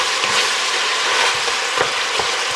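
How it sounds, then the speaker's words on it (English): Bacon and sliced onion frying in a pan give a loud, continuous sizzle and crackle, with a few soft clicks of stirring through it, close and without talk. "I'll go on with some onion. And that's gonna kind of sweat down as the bacon's cooking in there too."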